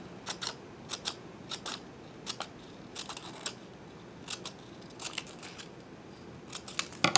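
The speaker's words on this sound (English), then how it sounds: "these are going to be skinny snips. And we're going to do it all across the paper." A pair of scissors makes quick, repeated short snips while cutting a thin fringe across a sheet of paper, with bursts of two or three cuts separated by brief pauses and no talking.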